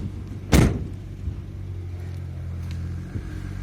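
A 2018 Renault Master van's sliding side door thuds once sharply, followed by a low engine rumble and faint clicks.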